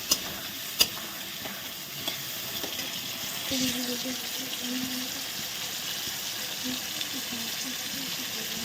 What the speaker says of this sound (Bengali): এখন আবার একটু নেড়ে দেবো সুন্দর করে চারিদিকে নেড়ে দিচ্ছি